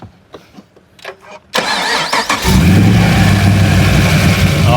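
A supercharged LS V8 in a Holden VF SS cranks over and fires, settling into a loud, steady idle with a rough, lopey rumble and supercharger whine, close up after a few quieter knocks and movements.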